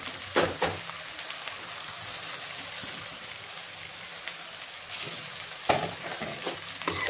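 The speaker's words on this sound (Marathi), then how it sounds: "आता मसाला चांगला भाजून घेणार आहे आपण" Stuffed-capsicum masala with crushed peanuts roasts in a pan, a steady close sizzle with occasional scraping stirs of a spatula, louder bursts near the start and end.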